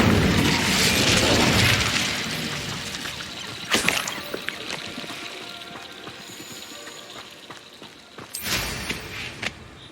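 An Incendio fire spell cast in Hogwarts Legacy bursts out as a loud, whooshing blast of flame that fades, followed by sharper cracking pops and a second burst near the end.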